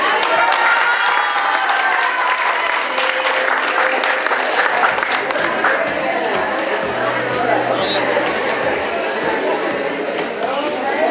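Audience applause for women receiving entrepreneurship awards at a ceremony, steady dense clapping sustained throughout with crowd chatter mixed in.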